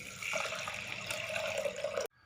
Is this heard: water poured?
yes